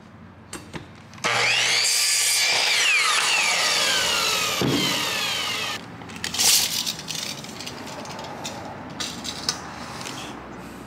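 A power saw cuts wood boards during a bed frame build in a short bus conversion: after a quiet start it rips through the board with a loud, sustained buzz for several seconds, then gives way to scattered knocks and rustling.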